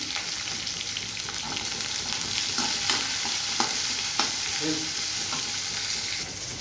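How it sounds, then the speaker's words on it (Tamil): Chopped shallots and green chillies fry in hot oil for a village-style Tamil sambar, a steady close sizzle with occasional scrapes and ticks of a stirring spoon. "ஒரு கைப்பிடி அரிஞ்சு வச்சு சின்ன வெங்காயத்தை சேர்த்துக்கிறேன்"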